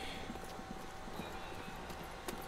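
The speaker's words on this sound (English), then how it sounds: "I hear footsteps." Footsteps in Call of Duty Zombies, level Nacht der Untoten, rapid rhythmic thuds under a faint constant hiss and hum, quiet and moderately distant.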